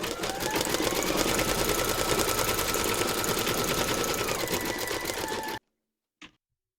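Embroidery sewing machine stitching white thread for a teddy's eye appliqué, a loud rapid continuous run close up that stops abruptly, followed by one short click.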